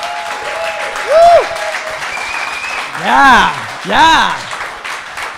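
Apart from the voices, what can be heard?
live audience applause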